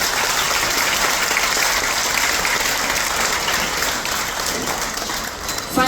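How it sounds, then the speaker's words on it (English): Steady, full applause from a ceremony audience honoring first responders aboard a Royal Caribbean cruise ship, dense clapping sustained throughout at even loudness with no voices. "Let's give them all a big round of applause."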